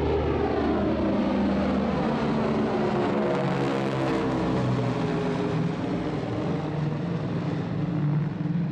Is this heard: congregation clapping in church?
no